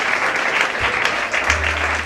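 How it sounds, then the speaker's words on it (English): Audience applause for an MC taking the stage at a cabin crew fair: steady, dense clapping from a crowd that fills the whole moment at an even, lively level. "how is that for an applause?"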